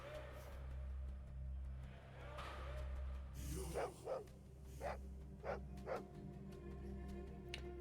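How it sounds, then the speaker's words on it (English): A dog in the Fallout 2 video game barks in a short series of about five sharp yaps over a steady low game ambience hum, moderately near and clear against the background. "I also hear that dog."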